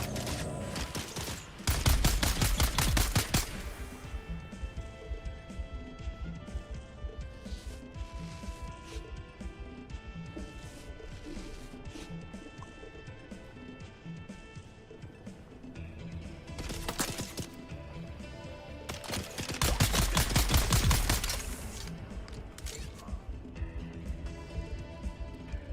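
Gunfire crackles in the sci-fi survival game Dune: Awakening, two dense bursts of rapid shots a few seconds long separated by a stretch of quieter game ambience and scattered mechanical clicks, fairly faint overall.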